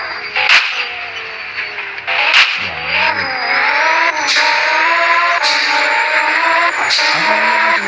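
A car engine in the Roblox game drives along a Perak highway, a steady mid-pitched drone that rises and falls through gear changes, with sharp whip-like clicks cutting in at intervals.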